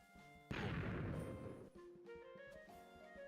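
A Minecraft explosion bursts loud and close, a broad crashing boom that decays over about a second, followed by quieter game sounds.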